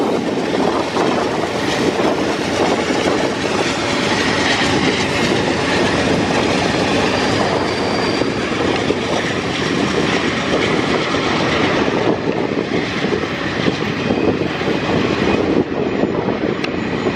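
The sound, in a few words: Q freight train riding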